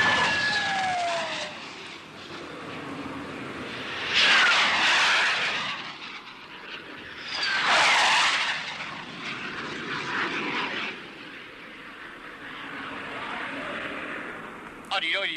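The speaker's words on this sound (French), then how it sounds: "Tiens, ça y est, Roger décolle." An aerobatic propeller plane takes off and flies past in a 1970 Belgian airshow scene, its engine swelling loudly in two close passes and fading between them, with talking over it.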